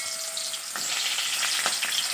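Onions dropped into hot mustard oil set off a steady, close sizzle and crackle, with a few sharper spatters and stirring scrapes rising through the frying hiss; no voices.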